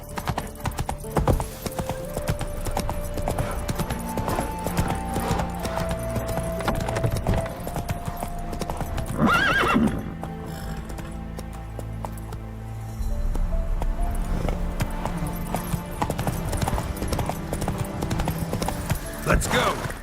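The horse Roach gallops in The Witcher 3, a steady rapid clip-clop of hooves running throughout under game music and ambience, with voices speaking over it.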